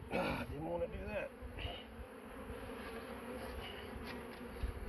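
Honeybees buzz in a faint, steady drone on a hive board, with a few soft handling knocks and thumps mixed in.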